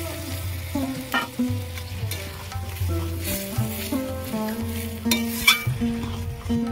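A little water goes into a pan of frying okra and prawns, giving a steady close sizzle under stirring, with a brief sharper burst near the end and soft music behind.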